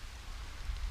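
Steady rain falling outdoors by open fields, a soft continuous hiss with low rumble underneath, faint and even throughout with no voices.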